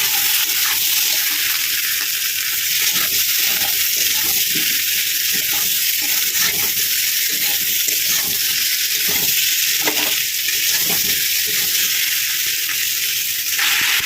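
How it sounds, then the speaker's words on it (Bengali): Potatoes stir-fried with hilsa fish in a pan give off a steady, loud sizzle, with intermittent scraping and stirring clatter throughout and no talking. "এবার আলুটা দিয়ে দিয়েছি সেটা ভালো করে কষিয়ে দেবো"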